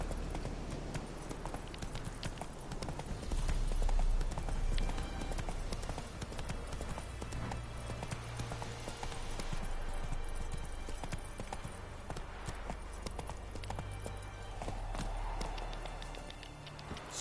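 Horse hooves clip-clop steadily in The Witcher 3 video game, a continuous close rhythm of hoof strikes on ground under dense game ambience.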